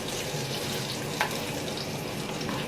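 Washed curry leaves hit hot oil on a stove, giving a steady, dense, loud sizzle with no break throughout.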